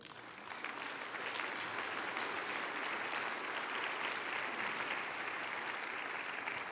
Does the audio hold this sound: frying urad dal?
no